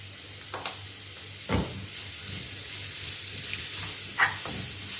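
Onion frying in a pan as a crushed ginger, garlic and fennel paste goes in, a steady close sizzle and hiss with a few stirring scrapes, no talking.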